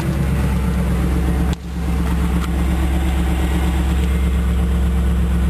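A 1998 Pontiac Trans Am with the LS1 V8 idles steadily and loud after a fuel filter change, a constant low rumble with one brief dip partway through, no voices.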